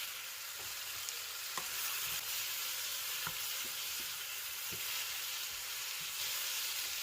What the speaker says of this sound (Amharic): ቲማቲሙን 1-2 ደቂቃ እንጠብሳለን።